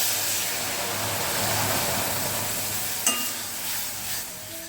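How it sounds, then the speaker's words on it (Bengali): Gram flour fries in a little ghee in a wok, giving a soft, steady sizzle and hiss up close with one faint clink partway through, and no voices. "কড়াইতে অল্প করে একটু ঘি নিয়ে নিয়েছি হাফ চামচ ঘি তার মধ্যে দেড় চামচ মতো বেসন দিয়ে ওটাকে ভালো করে ভাজা ভাজা করে নিয়েছি"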